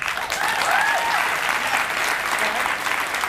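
Steady, loud applause from a studio audience at a Madonna interview, a dense even clatter of clapping throughout with no talking.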